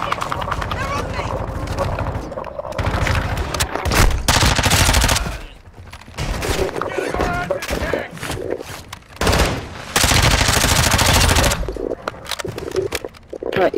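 Machine-gun fire in Call of Duty: Modern Warfare II DMZ mode, with loud sustained bursts and crackling volleys filling the scene. Players talk over the shooting.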